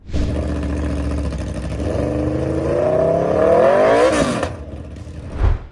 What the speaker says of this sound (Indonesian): suara mesin V4-nya punya karakter yang cuma bisa lo dapetin dari motor Italia